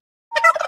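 A turkey gives a single short, close gobble lasting less than half a second after a moment of silence.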